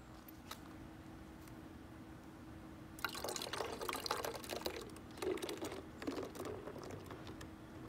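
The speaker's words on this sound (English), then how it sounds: "let's see what happens when we pour the yeast in." Yeast is poured into a bottle of reacting mixture, a gurgling, dripping rush of liquid and splashing starting a few seconds in over a steady low hum, no talking.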